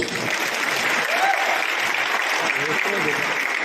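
An audience at a political meeting claps steadily, a dense, continuous wash of applause that holds evenly throughout with no break.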